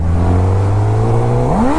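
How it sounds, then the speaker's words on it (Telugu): An inline-four superbike engine is revved with the clutch held. It drones loudly and steadily near the microphone, then climbs sharply in pitch as the throttle opens at the end. "సో క్లచ్ పట్టుకొని రేవ్ ఇచ్చా"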